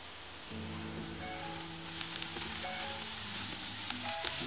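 Green chili, garlic and cumin paste sizzles steadily while being sautéed with onions in a pan, a soft continuous frying hiss with faint scraping now and then, heard alone.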